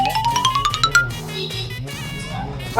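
A phone rings out with a bright, rising repeated tone while calling a friend named Vishwa at his home, the ringtone running close and fairly loud for a couple of seconds under a busy room of voices and music-like chatter.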